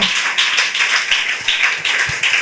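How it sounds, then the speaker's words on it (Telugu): A church congregation claps their hands loudly together during a sermon, producing steady rhythmic bursts of applause, close and alone, with no talking. "చప్పట్లు కొట్టండి గట్టిగా."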